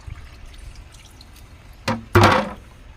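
Water dripping from an air conditioner unit lands in a couple of distinct splashes, the second louder and splattering, over a faint quiet background.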